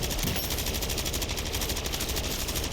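Nonstop automatic gunfire in Call of Duty MW3 zombies mode, a dense unbroken rattle of rapid shots held at steady loudness from start to finish with no pauses.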